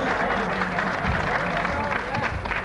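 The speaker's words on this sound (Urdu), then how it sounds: "عبید کو کم از کم آپ کی تالیوں کی گونج سنائی دی تھی" An audience applauding at a poetry recital (mushaira), dense clapping mixed with crowd murmur and a voice talking over it, moderately close and continuous.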